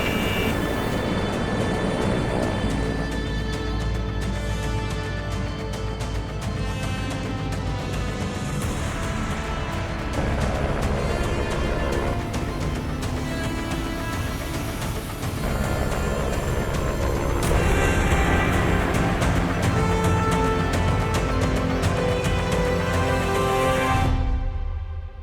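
A Carilion Clinic Life-Guard medical helicopter lifting off, its loud, steady rotor and turbine roar filling the whole stretch up close, with a rhythmic beating and a rising whine before it cuts off at the end.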